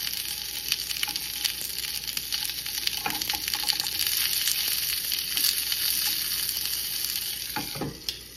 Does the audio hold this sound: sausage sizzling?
yes